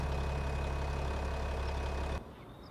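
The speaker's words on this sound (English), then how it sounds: "it used to be if you drive into the yellow boxes, the engine sound goes away." Steady low engine idle from a vehicle in a video game, droning loud and even before cutting out abruptly near the end, leaving only faint residual noise.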